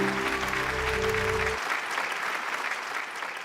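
A studio audience at a Malayalam TV game show bursts into sustained applause as a musical sting fades out in the first half, the clapping then carrying on alone at an even level.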